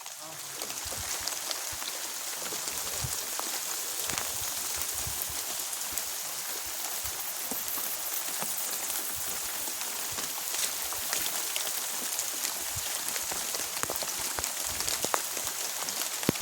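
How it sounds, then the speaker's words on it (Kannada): Continuous hiss and patter of water spraying and falling onto a surface, steady and fairly close, with no pauses throughout. "ಇಲ್ಲಿ ಬೀಳ್ತಾಯ್ತು ನೀರು"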